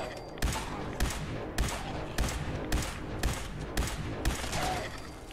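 Gunfire at bloatflies in the video game Fallout 4, with nine sharp evenly spaced shots about half a second apart, loud and close over a dense busy game background.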